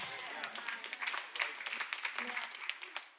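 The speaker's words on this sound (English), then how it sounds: "I think y'all need therapy because only 3 people clap." Sparse clapping from a few people in a church audience, scattered uneven claps, faint and thin, mixed with low murmuring voices.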